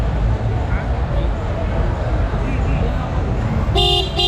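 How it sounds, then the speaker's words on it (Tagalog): At a bike trade show, a horn sounds one short, loud toot near the end of the clip, following a stretch of busy crowd chatter and people talking nearby. "Oh, mga busina. Meron din silang busina dito."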